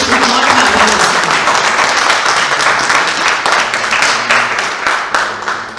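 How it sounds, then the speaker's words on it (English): A large audience gives a sustained round of applause at a book and magazine launch event for a poetry book, with dense, loud clapping that continues steadily throughout. "Please, ladies and gentlemen, one more round of applause for them."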